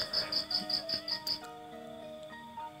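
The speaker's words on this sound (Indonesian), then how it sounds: "Kiri kanan, cangkrik dan katak terdengar bagaikan alunan musik" Crickets chirp in a steady pulsing run of about seven bursts at night, then stop, leaving a quiet tonal background.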